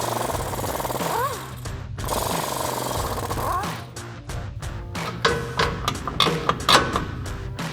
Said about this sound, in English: we'll take an 18mm socket to remove these two nuts